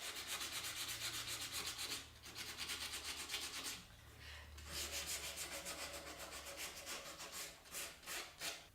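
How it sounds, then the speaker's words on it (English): Sandpaper of 220 grit rubs over a wooden workpiece in quiet, steady scratching strokes. Near the end the strokes become distinct and regular. No voices are heard. "grab some sandpaper and clean them up too"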